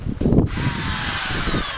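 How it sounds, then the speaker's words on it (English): A power drill bores a hole in wood while fitting an Edwardian-style garage door: a brief low bump, then a steady, close, high-pitched whine that drones on alone to the end. "I can crack on, drill out my hole, which is right there."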